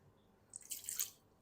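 Water poured into a jug while cooking aloo palak, a short faint splash and trickle lasting under a second in a quiet kitchen.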